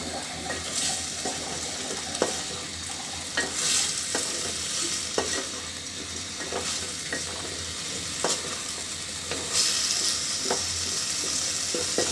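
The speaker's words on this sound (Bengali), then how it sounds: "মশলার সঙ্গে কিন্তু কচুরমুখিটা খুব ভালোভাবে মাখানো হয়ে গেল" Taro roots coated in spices, in a tomato-based dish, fry in a pan with a steady hiss and sizzle, broken by repeated scraping and clacking stirring strokes throughout, with no talk.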